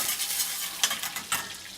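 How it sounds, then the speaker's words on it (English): Minced garlic hitting a hot pan during filet mignon cooking, a steady hiss with two sharper bursts of crackle as it lands and is moved, close and fairly loud, no voices. "So we're gonna go ahead and add that minced garlic."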